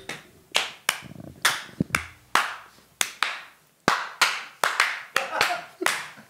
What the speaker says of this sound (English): That's a miserable round of applause.